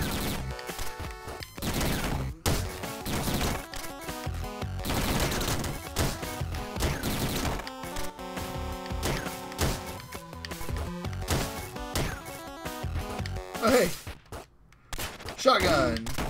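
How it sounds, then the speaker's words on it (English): Shotgun blasts in the video game Downwell, a rapid series of sharp, punchy synthetic bursts over chiptune-style game music, loud and close. "Shotgun."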